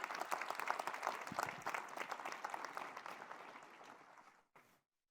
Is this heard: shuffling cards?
no